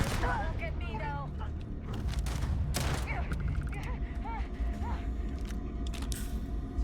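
Gunfire in the video game Starfield, a scattered volley of sharp shots and booms mixed with game sound effects and bleeps, heard under a person talking.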